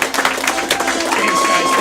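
Audience applause and crowd noise for a volunteer at a live show, a steady wash of clapping that holds loud for about two seconds with some cheering mixed in.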